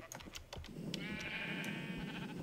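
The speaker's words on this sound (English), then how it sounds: "Lots of sheep, as you can see." Sheep in a video game bleat, several overlapping calls close by, one long wavering bleat holding over the others for about a second and a half, with no talk.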